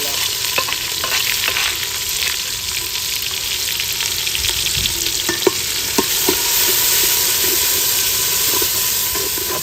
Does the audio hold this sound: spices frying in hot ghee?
yes